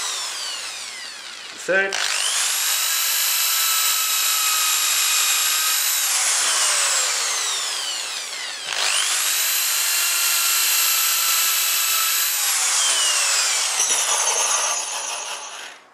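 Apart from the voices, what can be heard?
power drill driving screws into wood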